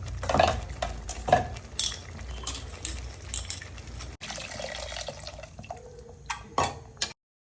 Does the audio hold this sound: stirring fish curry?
yes